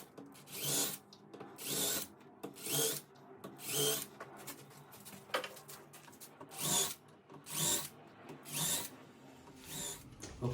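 A power drill boring pilot holes for hinge screws in a wooden door, sounding as a series of about nine short whirring bursts separated by pauses, faint and close.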